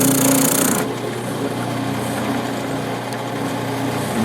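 A spindle moulder makes the first cut on a wooden box, a brief high-pitched cutting screech at the start that drops into the steady hum of the running machine.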